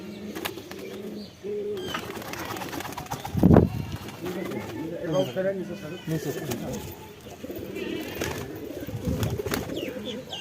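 Teddy and Andra pigeons cooing in low repeated throaty phrases, with a brief flutter of wings midway, under near continuous talk from a man.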